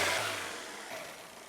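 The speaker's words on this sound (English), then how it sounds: "Give it a rev up" A used car's engine revs up briefly, a close, moderately loud mechanical roar that swells at the start and then settles back over a second and a half.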